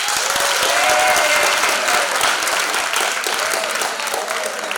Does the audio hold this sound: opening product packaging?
no